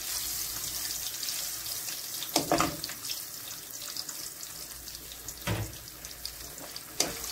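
Dates fry in hot ghee in a pan, giving a soft continuous crackling sizzle with a few louder spattering bursts, close up and with no talk.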